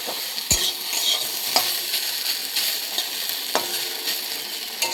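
Okra sizzles steadily in a pan for a vegetarian dish, with a few sharp scraping stirs of a spatula breaking through the continuous hiss; no one speaks.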